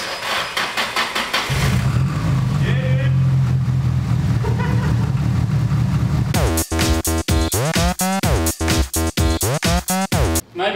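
A drift car engine is cranked with the key, catches and roars into a loud, choppy rev pattern after a few seconds of a steady low hum, with people talking nearby.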